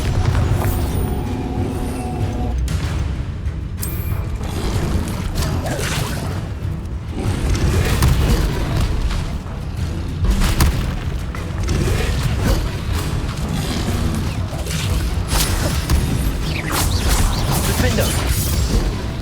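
Bombarda spell explosions in Hogwarts Legacy, dense booms, whooshes and crashes piling up in a loud, continuous battle mix, with a voice calling spell names throughout.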